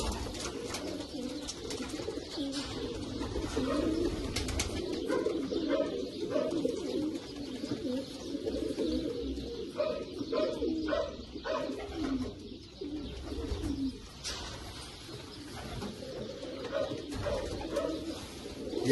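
Racing pigeons coo repeatedly in a loft, low rolling calls overlapping one another at close range, continuous throughout with no talking.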